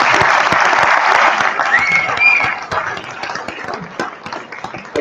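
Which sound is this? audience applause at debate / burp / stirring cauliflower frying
audience applause at debate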